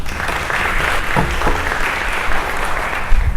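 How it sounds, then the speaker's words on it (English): An audience at a public-schools summit applauds a speaker, a dense, even wash of clapping that fills the short stretch at steady volume. "let's give a round of applause for Ashley Conrad"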